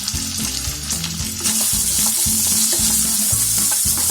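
Curry leaves frying with masala for spicy bread upma, a loud close sizzle that swells partway through, with stirring scrapes in the pan underneath.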